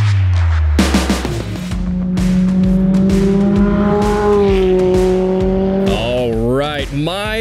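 A race car on the Pikes Peak hill climb revs loudly with rising and falling engine tones and sharp tire squeal, close and continuous for several seconds.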